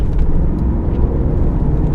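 From inside a 1990s Audi V8 D11 with a 4.2-litre eight-cylinder and quattro drive, a steady low engine and road drone fills the cabin at constant loudness, with no talking.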